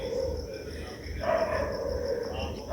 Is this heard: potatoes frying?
no